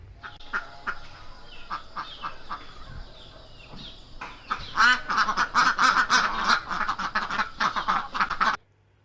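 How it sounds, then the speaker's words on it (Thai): A duck quacks repeatedly, first a few scattered calls and then a loud, dense burst of raspy quacks that stops abruptly near the end. "เสียงของเป็ด"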